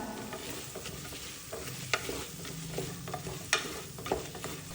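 Carrot and capsicum being stir-fried in a pan: a soft continuous sizzle with scattered scraping and clicking knocks of the spatula against the pan, fairly quiet and close.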